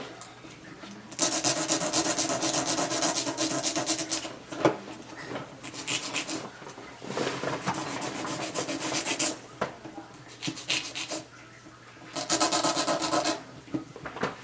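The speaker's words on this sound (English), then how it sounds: "So continue filing their shape" A hand file with 100 grit works the shape of acrylic nails. It rasps in repeated bursts of fine, steady strokes, close and clear, with brief pauses between passes and no talk.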